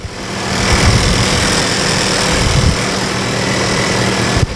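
A 2019 Volkswagen Jetta R-Line with a 1.4-liter turbo engine idles steadily and smoothly at close range, a constant low hum with a brief bump near the end and no talking.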